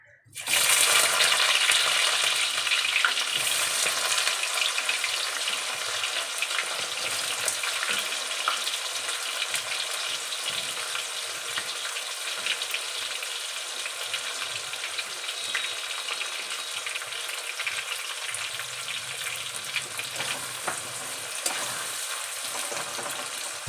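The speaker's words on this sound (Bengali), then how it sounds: "এবার এই তেলের মধ্যেই পেঁয়াজ দেবো" Onions hit hot oil for chicken biryani, bursting into a loud, steady hiss and sizzle that stays strong and close for the full stretch, with faint bubbling underneath.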